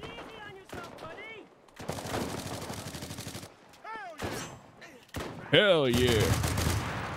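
Gunfire from the Pacific War campaign of the video game Enlisted comes as scattered bursts and single shots between pauses, with a heavier burst near the end, while players talk over it.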